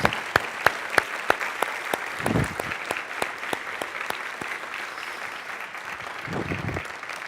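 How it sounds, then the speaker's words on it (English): Town hall audience applauding a staff member asked to stand, with sharp, distinct individual claps standing out over a moderate crowd clapping, and brief low rumbles of movement between. "Let's give John a round of applause."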